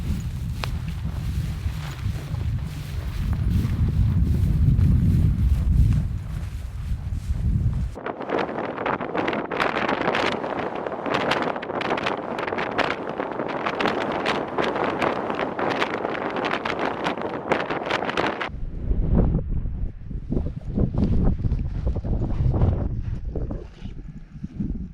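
Strong wind roars across a mountain summit ridge on Meall nan Tarmachan, buffeting the microphone in loud, continuous gusts that shift between deep rumbling and broad hissing bursts, with no talking.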